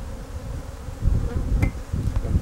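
A mass of honeybees poured into a collection box gives a loud, continuous buzzing drone, rising after the first second, with a couple of sharp knocks or taps cutting through near the end.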